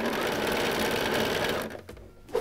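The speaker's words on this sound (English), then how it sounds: "I'm gonna fold it over and hold the side that I'm gonna sew." Sewing machine stitching quilt fabric pieces, a close, steady rapid whirring run for about one and a half seconds, then stopping into quieter handling noises.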